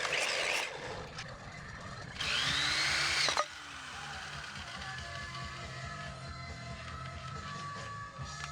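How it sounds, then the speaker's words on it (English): Power drill fitted with a Harbor Freight right-angle attachment boring into a boat stringer, whining loudly in two short bursts with a quieter mechanical hum between them. "It's the only way you can drill on the outside of a stringer without,"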